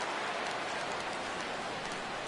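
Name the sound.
heavy rain in a baseball video game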